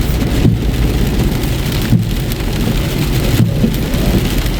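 Heavy rain pours steadily through a night thunderstorm, loud and dense throughout, with low thunder rumbling beneath it and a few heavier pulses near the start, middle and end.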